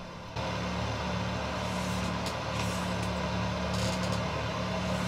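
A Cessna's engine in Microsoft Flight Simulator X drones steadily for takeoff, kicking in almost immediately and holding a constant low hum with a broad, even hiss.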